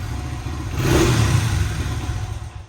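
A Honda CRF100 dirt bike with its stock exhaust runs close by, a steady, throaty engine drone that swells slightly and then holds even, with no talking.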